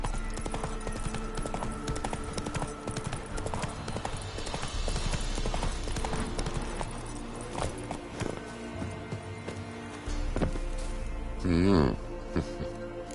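Horse hooves clip-clop in a steady gallop rhythm in the Witcher 3 video game, close and clear, with game ambience and a brief whinny near the end.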